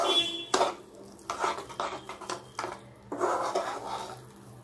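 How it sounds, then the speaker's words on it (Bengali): Bread halwa stirred in a pan with a utensil, scraping and clinking against the metal in irregular bursts, fairly close with no talk. "এবার সব একসাথে ভালো করে মিশিয়ে দিই"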